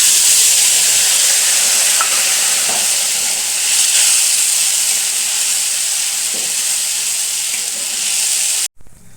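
Ginger-cumin paste fries in hot oil in a wok with a loud, continuous hiss and sizzle for several seconds, then cuts off abruptly near the end.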